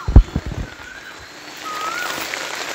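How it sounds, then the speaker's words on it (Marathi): Heavy monsoon rain in an orchard garden, a broad steady hiss that swells louder in the second half, with a few close knocks and thumps at the start. "तर मंडळी खूप पाऊस आहे."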